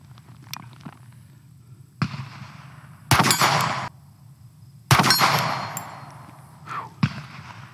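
A Sig Sauer P635 pistol fires at a steel target 50 yards downrange, with a few sharp shots spaced seconds apart, each followed by a ringing metallic clang from the struck steel.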